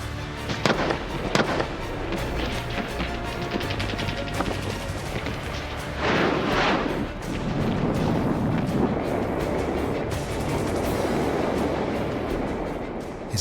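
Artillery fire in a WW2 battle scene in Manila, with repeated heavy booms and blasts of varied size, some close and sharp, others rolling and sustained, without any talk.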